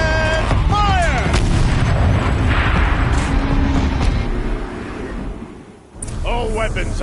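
Turret cannon firing in the video game Horizon Zero Dawn, loud booming blasts with rumbling low roar, sweeping tonal game effects overlapping, a brief dip near the end before another burst.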